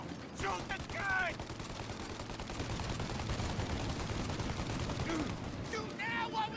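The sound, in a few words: gunfire in a shootout, from the video game Mafia Definitive Edition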